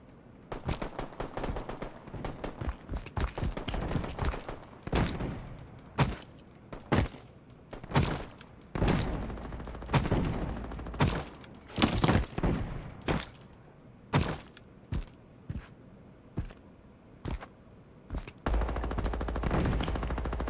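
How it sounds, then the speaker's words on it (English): Rapid gunfire from a shooter video game, with bursts of automatic fire and single sharp shots spread across the whole stretch, loud and close with brief gaps between volleys. "Where is that shooting happening?"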